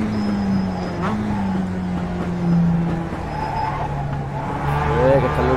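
In the iRacing game, a race car engine drones steadily with shifting pitch as the revs rise and fall, and brief tyre squeals break in, while someone talks over it.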